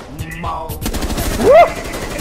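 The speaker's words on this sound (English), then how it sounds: "He's shooting at me." Gunfire in the tactical shooter game Rainbow Six Siege, with rapid bursts of shots close in the mix during a match, while players talk and laugh over it.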